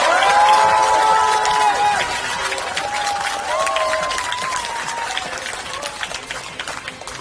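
A rally crowd cheering and applauding to welcome Lee Jae-myung at Yonghyeon Market in Incheon, a loud outdoor roar of clapping and shouts, with whistle-like tones and a voice drifting over it, gradually easing off.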